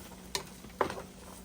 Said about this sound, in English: we are gonna saute up our onions and our green peppers